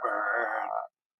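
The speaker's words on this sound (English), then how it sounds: "the pond comes alive with the sound of froggies" A single frog croak sound effect, a loud, buzzy, sustained call lasting just under a second before cutting off abruptly into silence.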